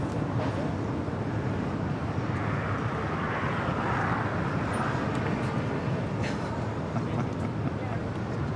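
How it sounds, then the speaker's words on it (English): China Cargo Airlines Boeing 777 freighter rolling down the runway at LAX on its takeoff run, a dense, steady engine roar that stays loud throughout, with a voice talking over it. "we got the 777 freighter now rolling down"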